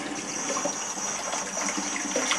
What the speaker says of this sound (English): continue to let that cold water run on as you peel